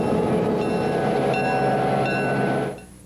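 A train runs along a railway track at steady, loud volume, with a continuous rumble and faint metallic tones. The sound cuts off abruptly near the end.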